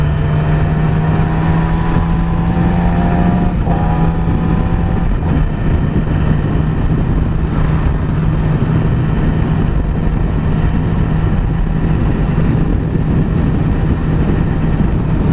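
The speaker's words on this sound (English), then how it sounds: "right now when I throttle the bike, the power input from the engine is more direct now" Motorcycle engine on the road with the throttle opened, a loud, steady droning hum with rising and falling pitch under heavy wind rush, continuous throughout.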